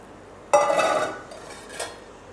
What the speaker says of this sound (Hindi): अब हम इसमें मज़ीद दूध डाल के चीनी डालेंगे।